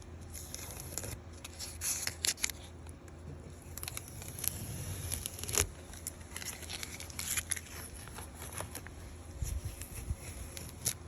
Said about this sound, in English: I'm going to peel the tape off now